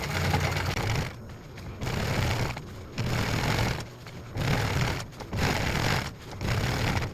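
A sewing machine stitching a hem on a pair of pants, running slowly in steady whirring bursts of about a second each separated by short pauses, close and loud with no voices.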